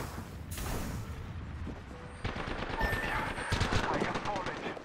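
Rapid automatic gunfire in the video game Apex Legends, a dense rattling burst of shots that pauses briefly and then resumes louder, with game voices audible in the mix.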